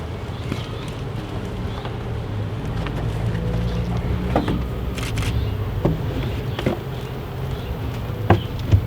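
Honey bees swarm around a backyard beehive during a June inspection, a dense, continuous buzzing close by with occasional louder passes of individual bees.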